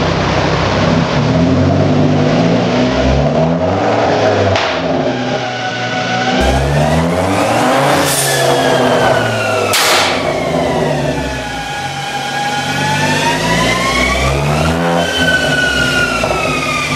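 A Mk2 Ford Focus ST225 with a remap revs hard on a dyno, the loud five-cylinder engine climbing and falling through repeated sweeping runs with sharp pops between pulls.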